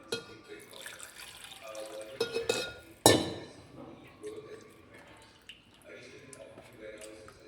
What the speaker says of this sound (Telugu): మళ్ళీ వాటర్ వేస్తున్నాను.